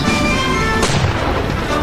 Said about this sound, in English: Use the left side cannons.